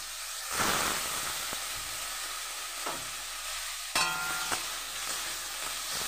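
Prawns frying in hot oil with a little turmeric give off a steady broad sizzle with occasional sharper crackles and a burst of spattering near the end, close and moderately loud, with no voices.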